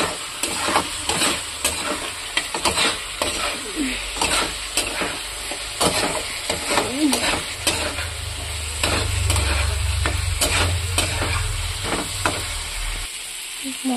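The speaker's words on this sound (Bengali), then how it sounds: "এরপরে এই যে আলুগুলো দিয়ে দিয়েছি, আলুটা এর মধ্যে ভালো করে কষাবো।" Potatoes sautéed with spices and garam masala in a pan, a close sizzle broken by rhythmic spatula scrapes and knocks against the pan, with a low rumble swelling in the background.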